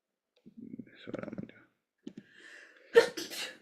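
A single sharp sneeze bursts out near the end, loud and close, following quieter murmuring and breathy vocal sounds.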